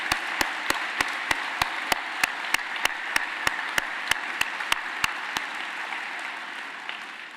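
A crowd at a D-Day commemoration and museum anniversary celebration applauds steadily, a dense wash of clapping with a few sharp, regular claps standing out, fading slightly toward the end.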